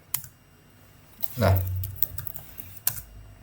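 A few crisp key presses on a computer keyboard while building a Laravel web application, with a single sharp click standing out; a voice murmurs briefly in the middle.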